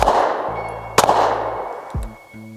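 A SIG P365 pistol fired in a quick burst outdoors: a sharp, loud crack with brief echoing tail, then a quieter follow-up shot, over low background rumble.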